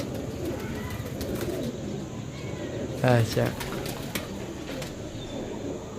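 Pigeons for sale at a loft in Sarialamgir, Jhelum, Pakistan give a short coo partway through. It sits under steady nearby talk from a man, with a faint background hum.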